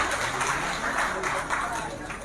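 A crowd at a large BSP political rally in Kanpur applauds loudly, a dense, steady wash of clapping that fills the short stretch without a break.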